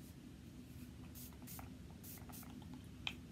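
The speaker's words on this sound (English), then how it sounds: "I'm gonna spritz it with my rosewater mist." Rosewater mist is spritzed onto a small flat shader makeup brush in several short, faint airy pumps of spray, spaced apart and heard close up.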